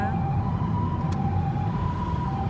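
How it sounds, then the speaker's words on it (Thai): Ambulance siren sounding on a road, a steady wailing tone heard continuously and fairly loud above traffic rumble, close by as the vehicle passes. "เราต้องหลบทางให้รถพยาบาลไปก่อนนะคะ"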